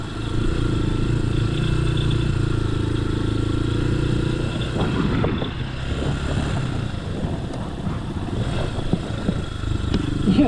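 A Lifan KPX 250 motorcycle rides off-road enduro-style, its engine droning steadily and loud throughout, with rougher clattering bursts and uneven revving in the second half as the bike crosses rough ground.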